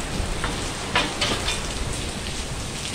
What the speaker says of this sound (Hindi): देखो पानी बारिश हो रही है ना